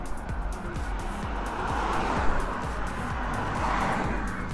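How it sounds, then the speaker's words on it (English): Two cars pass along a road near the Humber Bridge, their engines and tyres forming a steady rushing roar that swells and fades slightly as they go by, fairly close and with no talk. "Wait for those two cars."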